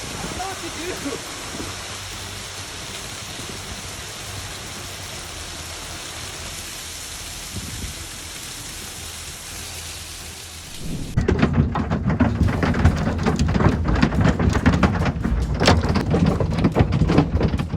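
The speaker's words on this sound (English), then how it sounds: "The storm swept through Montana as if tearing the sky apart." Heavy thunderstorm in Montana: steady dense rain pours throughout, then turns louder and harsher partway through with a surge of close, crackling downpour and rumbling thunder, strong and continuous with no clear voices.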